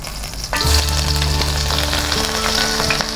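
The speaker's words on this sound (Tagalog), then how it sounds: "lagay ko na tong sibuyas at saka bawang" Chopped onions and garlic dropped into smoking-hot oil burst into a loud, steady sizzle that begins abruptly and keeps crackling continuously with no talking.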